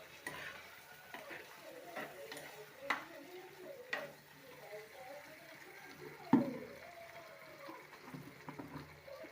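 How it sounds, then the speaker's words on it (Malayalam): Mango curry with curry leaves stirred in a pan, faint soft scrapes and a few sharp clinks of a spoon against the pan over a quiet background with light bubbling, close but low in level. "ഇനി കുറച്ച് കറിവേപ്പില ഇട്ട് കൊടുക്കാം നന്നായി ഒന്ന് ഇളക്കി കൊടുക്കാം"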